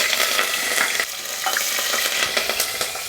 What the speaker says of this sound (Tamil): கடுகு பொரிய ஆரம்பிச்சிச்சு.